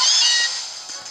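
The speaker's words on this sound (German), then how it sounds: "Ein Mauzi erscheint." Meowth's cry in Pokémon Sun, a single bright, cat-like meow that starts loud and fades over about a second.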